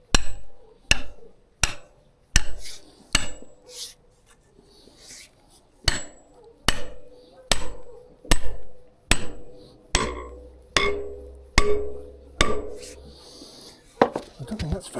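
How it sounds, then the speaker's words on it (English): Repeated sharp hammer taps with a small hammer driving a piece into place on a new porch, about fifteen close, loud strikes in uneven bursts with short pauses between. "just tap this in with a small hammer"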